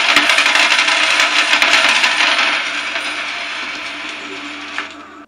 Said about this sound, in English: but you hear coins